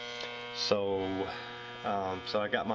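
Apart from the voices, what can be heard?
H10 refrigerant leak detector humming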